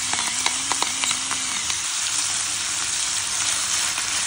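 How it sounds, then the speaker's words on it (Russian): Pieces of pork sizzle and fry in a pan, a steady crackling hiss with a few sharp pops near the start, close up and alone without talk. "Выкладываем на сковородочку и начинаем это дело обжаривать."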